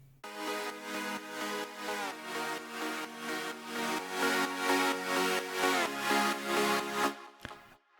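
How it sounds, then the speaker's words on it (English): Buzzy, thick detuned saw-wave synth chords for festival progressive house, slightly wavering, changing in steady blocks before cutting off abruptly near the end. "For the chords, we also like to use saw waves and more detuned."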